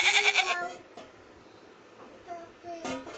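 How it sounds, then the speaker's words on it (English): A goat bleats in a loud, wavering burst at the start, followed by quieter bleats and a final cry near the end, with short pauses between them. "Goat."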